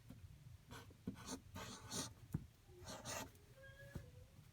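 Hand-writing the Arabic word Wadduha, close, quiet pen strokes scratching on paper in short bursts, with a faint voice in the background.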